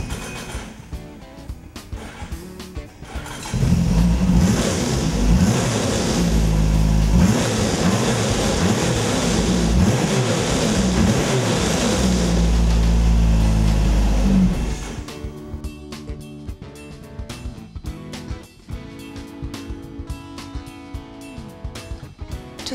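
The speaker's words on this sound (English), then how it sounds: "You can even start the snowmobile engine." A 4-stroke snowmobile engine starts after a few seconds, running loud and steady with rhythmic pulsing for about eleven seconds before cutting off, leaving faint clicks and mechanical noises on a sled lift.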